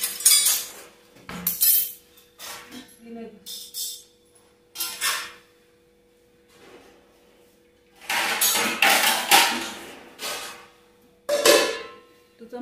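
A metal spoon clinks and rattles against steel utensils in a home kitchen, several short bursts of clatter separated by pauses, near and fairly loud with no talk.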